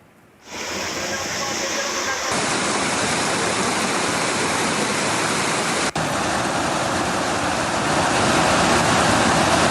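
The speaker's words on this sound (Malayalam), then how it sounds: "അരനല്ലൂർ കണ്ണംകുണ്ട് പാലത്തിൽ വെള്ളം കയറിയിട്ടുണ്ട്." Floodwater pouring over the Kannamkund bridge at Aranallur near Mannarkkad, Kerala, after heavy rain, a loud, steady roaring rush of water that begins abruptly and continues close by.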